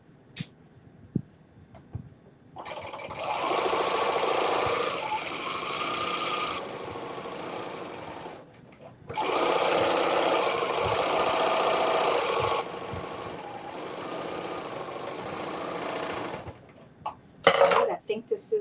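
Serger overlocking the edges of caftan fabric pieces, two long buzzing runs of steady motor whir separated by a brief pause, close and loud, with a few clicks and handling knocks around them.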